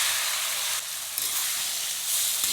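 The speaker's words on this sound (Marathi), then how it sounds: "ह्या शेंगा आपण तेलामध्ये चांगल्या परतून घ्यायच्या आहेत" Drumstick pods fry in hot oil with turmeric and red chilli powder over a high gas flame, giving a steady, close sizzle and hiss with no voices.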